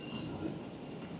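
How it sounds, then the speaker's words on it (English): Heavy rain falls outdoors at Belfast International airport, a steady broadband wash of drops and spatter heard up close, continuous with no talk over it. "This rain is horrendous."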